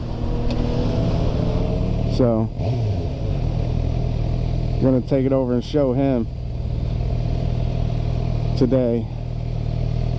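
A 750 motorcycle runs steadily on the road with a constant low engine drone and wind noise, while a rider talks over it in a few short bursts.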